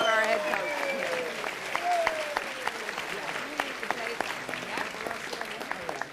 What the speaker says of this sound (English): how about one last round of applause for these kids